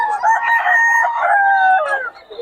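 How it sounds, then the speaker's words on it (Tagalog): A bull stag rooster crows once, a loud, close, drawn-out call lasting about two seconds that drops off at the end. "Stag yan. Bull stag na."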